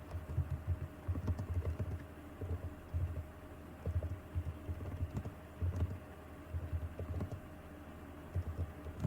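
Steady typing on a PC computer keyboard while writing HTML, with irregular key clicks repeating across the whole stretch, moderately close over a low background hum.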